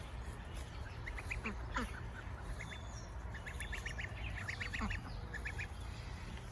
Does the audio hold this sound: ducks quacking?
yes